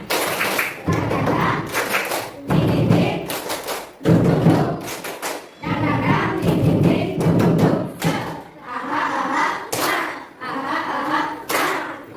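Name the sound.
children doing the tepuk semangat clapping chant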